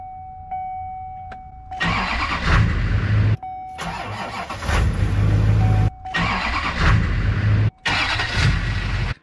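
A diesel truck engine running on a bolt-in supercapacitor cranks in several loud, close bursts separated by brief pauses, with a steady electronic tone between attempts.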